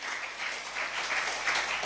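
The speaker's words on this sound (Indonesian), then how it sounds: "Beri tepuk tangan untuk Tuhanmu" A church congregation claps together in a brief, steady burst of applause, heard at moderate distance for under two seconds.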